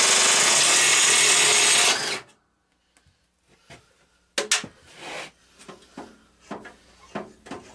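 A power tool works on the center bolt of a Craftsman hydrostatic mower, whirring loudly for about two seconds and then stopping, followed by scattered clanks and knocks of handling close by.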